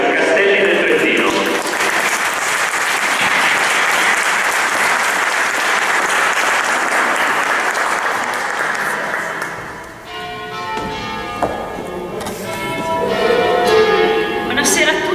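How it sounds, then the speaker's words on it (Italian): Loud, sustained audience applause for award winners at a medieval-heritage prize ceremony in Italy runs for about ten seconds, then fades as music and a voice take over. "E un applauso ai vincitori della categoria Castelli del Trentino."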